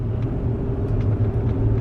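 2005 Audi A4 Cabriolet engine runs steadily while driving, a continuous low rumble with road noise inside the cabin.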